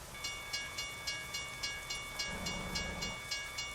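Rhythmic clacking of a train rolling past in American Truck Simulator, with regular periodic beats over a steady hiss and tonal hum, no voices.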